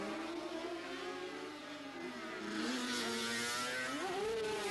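Sidecar racing outfits at Mallory Park in 1990 rev and whine past, engines rising and falling in pitch as they accelerate out of the hairpin, fairly distant and steady throughout with no voices.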